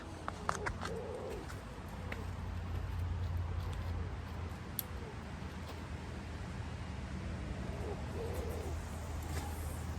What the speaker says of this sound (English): We've got pigeons fighting above my head in the tree.